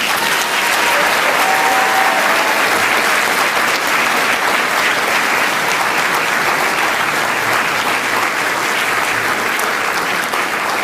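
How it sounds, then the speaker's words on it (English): Sustained, dense applause from a large graduation ceremony audience at Aston University fills the hall evenly with loud clapping throughout, with no pauses or voices. "Please do give them a huge and rousing round of applause."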